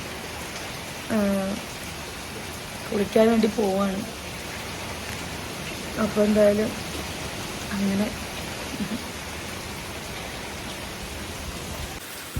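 Heavy rain falls outside with wind, a dense steady roar throughout, while a person talks intermittently over it.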